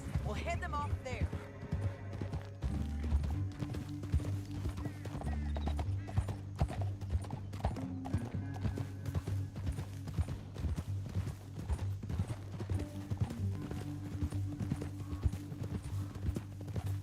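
Horse hooves clip-clop steadily in Red Dead Redemption 2, a rhythmic trotting beat running throughout, mixed with low music and a brief neigh, while voices talk over it.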